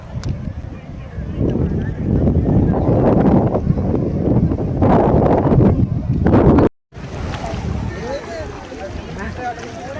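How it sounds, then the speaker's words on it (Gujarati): Sea surf roars on a beach during a picnic outing, a loud broadband rumble mixed with heavy wind buffeting the microphone, cut by a brief dropout near the end. "દરિયો એટલો ભયંકર ગાજે છે"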